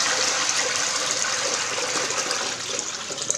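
Heavy water pours steadily into a sink and gushes down the drain, a loud continuous rushing splash with no voices over it.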